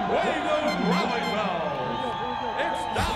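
Large stadium crowd at a Dallas Desire women's tackle football game roaring steadily throughout, a continuous wash of cheering with whoops under a commentator talking over it.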